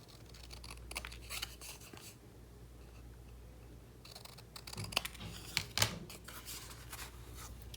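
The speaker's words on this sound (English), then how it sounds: "now I'm just going to snip the sides" Scissors snipping the sides of a die-cut paper card, a few quiet crisp cuts in bursts against a low background hum, with sharper snips near the end.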